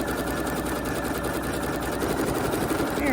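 A sewing machine runs a stretch stitch through thin dress fabric with a loud, steady, fast mechanical whir that continues without a break, close up and free of talk.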